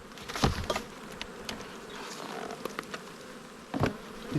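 Honey bees buzz around an opened beehive during a hive inspection, a close, busy drone with individual bees zipping past the microphone in sharp, louder swells.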